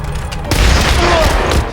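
A burst of gunfire in a shootout, loud rapid overlapping shots that jump in after a brief quieter moment and keep going as a dense roar.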